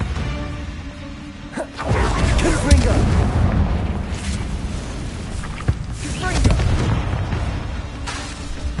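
Bombarda spell in Hogwarts Legacy bursts into loud, rumbling explosive blasts, the first booming in sharply after a short quiet lead-in, then sustained heavy roar with a second surge, close and powerful.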